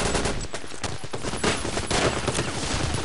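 Rapid automatic gunfire from the video game Counter-Strike rattles in dense, continuous bursts for a few seconds, loud and close, with no talking over it.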